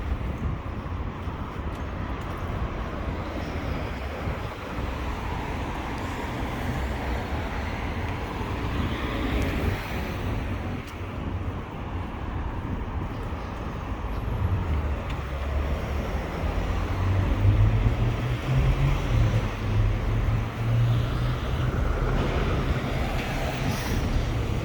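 Busy weekend street traffic in Pasadena near parking structures, a continuous rumble of cars passing at moderate distance, rising somewhat louder toward the end, with no clear talk.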